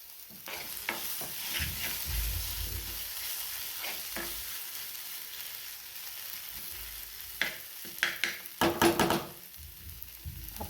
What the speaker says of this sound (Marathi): आता आपल्याला यावरती ही थोडीशी कोथिंबीर घालायची आहे. अशी एकदा हे मिक्स करून घ्या.